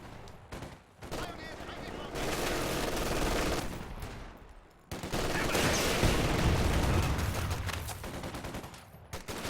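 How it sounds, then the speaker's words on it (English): MG42 machine guns firing at each other in a World War II strategy game battle, long dense bursts of rapid gunfire with a short pause between them, loud and sustained. "MG42 versus MG42 here in the center."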